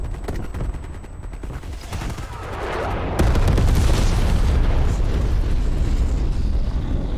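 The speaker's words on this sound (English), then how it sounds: "Hey, bomb strike coming in." Bomb strike explosions in a video game boom and rumble loudly, building into a dense, continuous roar of blasts and rapid gunfire-like cracks with no talking.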